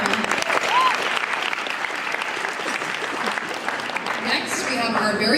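Steady, loud applause from an audience at a high school Black Student Union presentation after a poem reading, dense clapping throughout with some voices and whoops mixed in.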